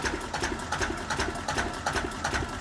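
A vintage four-stroke two-cylinder 2.6 litre diesel engine running steadily near the listener, with a fast, even mechanical clatter and rhythmic ticking throughout, no voices present.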